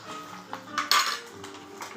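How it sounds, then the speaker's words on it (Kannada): Idli being fried and stirred in a pan, heard as a few light metallic clinks and scrapes of a utensil against the cookware, close and quiet, with one sharper clatter in the middle. "ಇಡ್ಲಿ ಫ್ರೈ ಮಾಡಾಕತ್ತೀನಿ ನಾನು"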